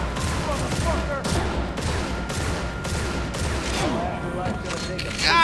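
Shotgun fire in the Dark Athena video game, a run of repeated blasts at irregular intervals mixed with battle noise, with a voice speaking under the shooting.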